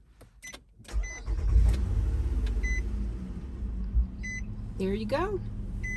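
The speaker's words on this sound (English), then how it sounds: "I'm going to turn on my vehicle." A car engine starts with a rising rumble, then settles into a steady idle while a 12-volt portable power station is plugged into its charging port. A short electronic beep sounds near the end, and a person speaks briefly.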